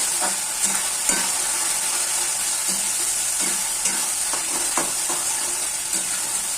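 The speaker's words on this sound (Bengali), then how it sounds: "জিরের গুঁড়ো আর ধনের গুঁড়ো দিয়ে ভালো করে মশলাটা কষাতে হবে।" Ground cumin and coriander are sautéed in a pan for an egg curry, with a steady loud sizzle and regular scraping strokes of a spatula repeating every second or so, close by.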